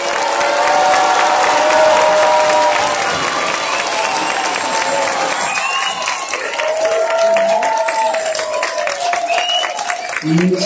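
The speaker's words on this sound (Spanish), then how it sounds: "Por favor, ayúdenme desde lo más profundo de su corazón con un fuerte aplauso para ellos." Loud applause and cheering from a crowd for dance students at a season closing show, sustained clapping with voices and whoops mixed in throughout.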